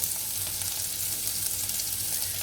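Boiled black chickpeas fry in a pan with a steady, close, even sizzle that stays at one level for the whole short stretch, with no speech.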